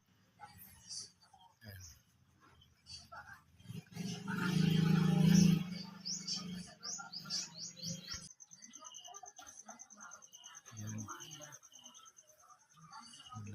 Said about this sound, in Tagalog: Yung pugad ng ibon kasi malapit lang din.